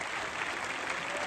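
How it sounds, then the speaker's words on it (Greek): An audience at a Greek comedy stage show in Alexandroupoli applauds a performer being introduced, a brief burst of dense, fairly faint clapping from the crowd. "Λουίς Μαρτσαλίδης! Χειροκρότημα!"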